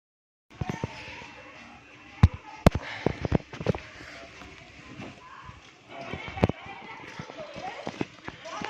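A horse-drawn cart rolls along with irregular hoof clip-clops and sharp knocks, moderately close, while people talk over it throughout.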